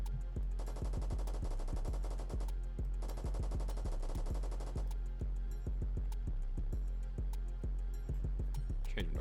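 Rapid full-auto gunfire from a video game weapon with tracer rounds fires in sustained bursts that fill the whole stretch, with sharp repeated shots and brief gaps, loud and close with no talk.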